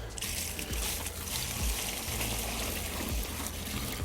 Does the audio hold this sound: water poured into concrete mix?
yes